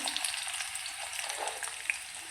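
Cumin seeds sizzle steadily in hot oil in a pan for a Maharashtrian matki curry, giving a continuous bright crackling hiss with small pops and no talking.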